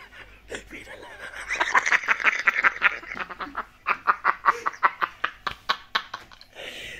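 Rapid series of loud, nasal duck quacks close by, rhythmic bursts growing sharper toward the end, with no speech over them.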